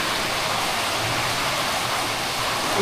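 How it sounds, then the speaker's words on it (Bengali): A monsoon waterfall pours down from above into a bathing spot, a steady, dense roar of falling water filling the air without a break. "ওই ওপর থেকে জল নেমে আসছে"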